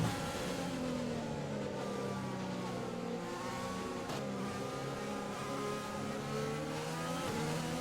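Formula 1 race car engine in a racing video game at the French Grand Prix, a steady loud high-pitched roar with rising revs, gear changes audible as the pitch drops and climbs, alone with no talk.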